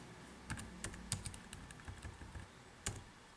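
Quiet typing on a computer keyboard, a soft, uneven patter of keystrokes with a few sharper clicks, close and faint against a low background hiss.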